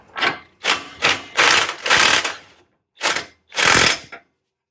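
Ratchet wrench snugging down the bolts of a new Koyo wheel hub on a Toyota Tacoma, heard as about seven close, loud bursts of rapid clicking separated by short pauses.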